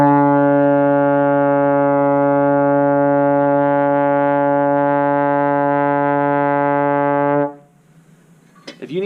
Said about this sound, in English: 4th position is at the bell with the end of your slide,